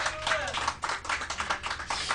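Steady rhythmic hand clapping along to a song at an SK Hynix event, fairly close and continuous, with a faint voice mixed in underneath.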